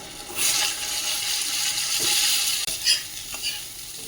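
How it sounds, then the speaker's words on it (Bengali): Potato pieces frying in a pan with turmeric and salt, a steady close sizzle with occasional stirring scrapes and a clink of the utensil. "এই যে আলুগুলো ভেজে নিচ্ছি আর হলুদ আর লবণ একটু দিয়ে দিচ্ছি"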